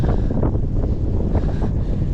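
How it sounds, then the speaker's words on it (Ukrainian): Strong headwind buffeting the microphone while cycling, a continuous low roar with gusty fluctuations, loud and close, no voices. "Дуже сильний зустрічний вітер."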